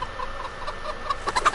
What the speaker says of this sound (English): There goes the chicken in the neighborhood.